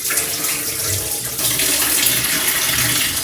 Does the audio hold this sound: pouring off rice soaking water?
yes